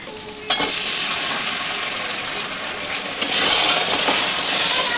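Mutton sizzles in oil in a kadai while being stirred, giving a steady, close frying hiss broken by a sharp metallic clank of the utensil and a louder surge of sizzling toward the end.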